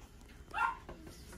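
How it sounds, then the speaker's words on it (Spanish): A dog gives a single short bark amid quiet household background noise, with a few faint softer sounds around it. "Perros horribles."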